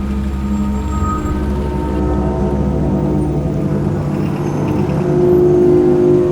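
A motorbike engine drones steadily up close as the bike rides off, with the pitch and loudness rising slightly toward the end as it accelerates.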